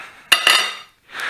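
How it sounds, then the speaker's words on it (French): Chilled chocolate truffle dough is scooped into small balls between two metal spoons, giving two sharp close clinks and scrapes followed by a brief pause and a softer scraping sound. "il suffit de prendre des petites boules entre 2 cuillères"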